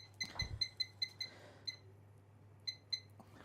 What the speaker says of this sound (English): I'm going to set my timer for 10 minutes.